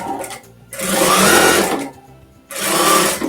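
Sewing machine stitching a fabric carrot-shaped ecobag, two bursts of rapid mechanical whirring separated by a brief pause, close and loud.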